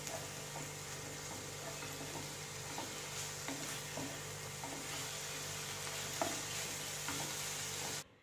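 Drumstick pieces sauté with tomato in a pan for a Kerala curry, giving off a steady soft sizzle. A spoon scrapes and taps now and then as it stirs, and no one speaks.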